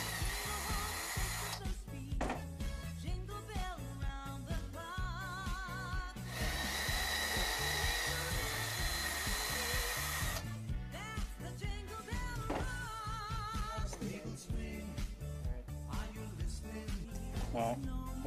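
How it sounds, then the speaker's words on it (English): A power drill whirs in repeated bursts, its pitch rising and falling as it starts and stops, with some rougher grinding between runs. "trying out his new drill bit that he got for Christmas."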